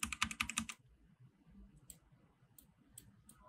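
Clicks from a computer keyboard: a quick burst of several key presses at the start, then a few isolated, faint taps spaced apart over a quiet background.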